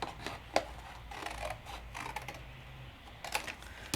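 Scissors snip away the foiled section of a Hunkydory craft paper page, a handful of small, close clicks and cuts spread irregularly across a few seconds, soft and quiet.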